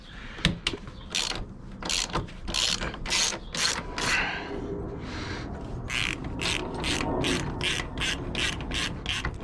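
Rapid ratchet clicking as a wrench loosens the rear set on a Honda Grom motorcycle, bursts of close, sharp pawl clicks in quick repeated strokes with brief pauses between.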